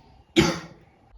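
A single sharp cough bursts out once, close and fairly loud, then trails off into quiet.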